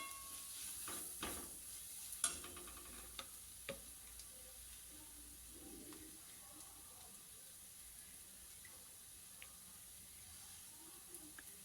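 Prawn roast stirred in a pan: a faint, low crackle of cooking with scattered soft scrapes and clicks of the spoon against the pan, quiet and steady throughout.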